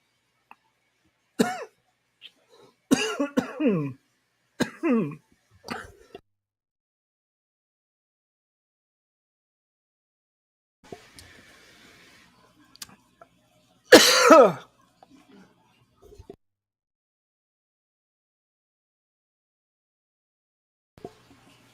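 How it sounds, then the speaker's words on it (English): A few scattered coughs and throat clearings, with one harsh louder cough later, separated by long quiet gaps. "Sorry, I got a cough."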